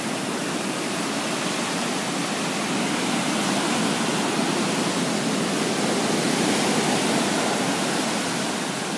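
Ocean surf at Bondi Beach, Australia, rushes in a loud, steady wash of white-noise roar that holds unbroken throughout, with no voices.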